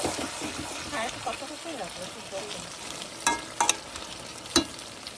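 Meat frying in a pan and being stirred, with a soft continuous sizzle, scraping stir sounds and a few sharp clinks of the utensil near the end, close by and fairly quiet.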